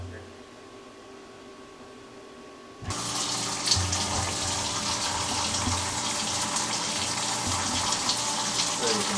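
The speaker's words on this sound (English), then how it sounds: "let's see if I can turn the coolant on without splashing all over myself here" Flood coolant switching on at a Tormach 1100MX CNC mill, a sudden steady gush and splatter of liquid after a few seconds of quieter machine hum, continuing loud and even.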